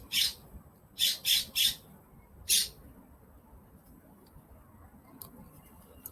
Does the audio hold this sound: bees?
no